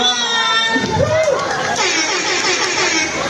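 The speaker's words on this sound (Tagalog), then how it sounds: "palakasin tayo ng sigawan" A crowd of children shouts and cheers at an event, loud and close, with a high voice carrying through the bustling babble and rising and falling throughout.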